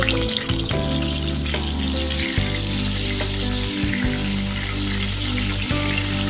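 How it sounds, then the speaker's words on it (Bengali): Pointed gourds fry in hot mustard oil with a steady bright sizzle, under a constant low hum and a few soft knocks as the pieces are moved in the pan. "এই পটলগুলো বেশ ভালোভাবে আমি কষে নেব, একদম প্রায় ভাজাই করে নেব"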